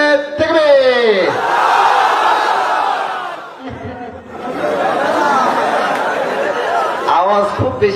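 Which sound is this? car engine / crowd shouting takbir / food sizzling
crowd shouting takbir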